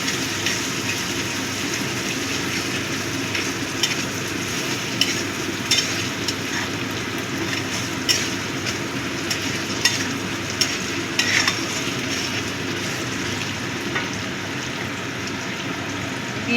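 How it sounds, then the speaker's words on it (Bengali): Stirring and mixing chana masala in a pan, a steady sizzle with scattered scraping clicks from the spoon, heard close and alone for the whole stretch. "ভালো করে মিশিয়ে নিচ্ছি।"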